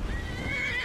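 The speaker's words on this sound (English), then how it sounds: "Horse!" Horse in Skyrim giving a loud, close whinny with a rising and falling pitch, lasting nearly a second on its own.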